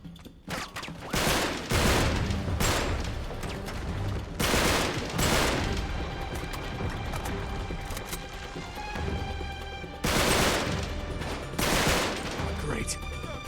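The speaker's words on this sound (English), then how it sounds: "What the hell was shooting behind me?" Gunfire erupts behind the player in the game Uncharted 3: Drake's Deception as loud repeated bursts of automatic and rapid fire, several heavy volleys separated by short pauses, with someone talking in places.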